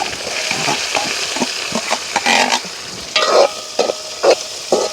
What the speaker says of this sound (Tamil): எண்ணெய் வந்து சூடாகிடுது நாங்கள் கொஞ்சமாக பெருஞ்சீரகம் போட்டுக்கொள்வோம் அதோட வந்து நிறைய நாங்கள் சின்ன வெங்காயம் பட்டி வச்சுருக்கிறோம்